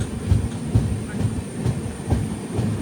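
Garib Rath express train (12201 LTT–Ernakulam) rolling along the rails, with a steady low rumble and rhythmic clickety-clack wheel beats recurring about every half second, heard close from on board with no talk.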